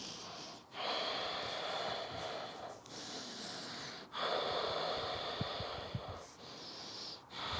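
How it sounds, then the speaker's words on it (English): Slow, deep breaths during a hatha yoga pose, heard close and loud as long airy inhales and exhales with brief pauses between them, several full cycles in a row. "We'll take another few breaths here."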